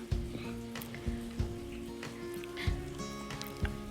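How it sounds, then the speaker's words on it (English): Pieces of food deep fry in very hot oil for a Kenyan Christmas dinner. A soft, steady sizzle is broken by sharp crackles and pops, with a faint background hum. "Be careful whenever you're dipping the pieces into the oil because the oil might be a"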